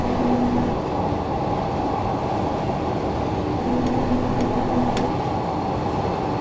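A Glasgow Subway 1980 Stock train runs underground in a train simulator game, giving a steady loud rumble with faint tonal whine and a few brief clicks, with no talk.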